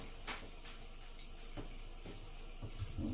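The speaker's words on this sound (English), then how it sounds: "Now I'm just going to flick it out in the tub." A shaving brush flicked out in a bathtub with running water, a quiet steady trickle broken by a few faint splashes and taps.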